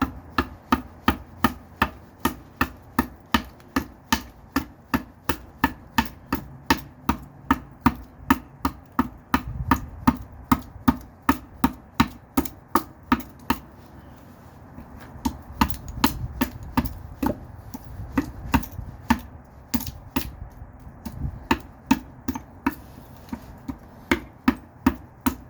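Tlingit artist Fred Fulmer carves wood with a gutter adze, giving a long, steady series of sharp, close chopping strikes at a regular rhythm, with short pauses and no talk.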